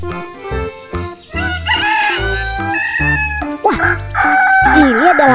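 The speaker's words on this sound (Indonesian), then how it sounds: "suaranya berkokok" A rooster crows loudly and close, its call rising over other clucking fowl and musical farm sounds, repeated near the end.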